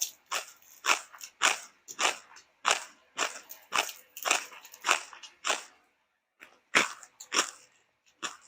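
Crispy fried tilapia belly is bitten and chewed up close, a run of about a dozen sharp, dry crunches in a steady rhythm with a brief pause near the end.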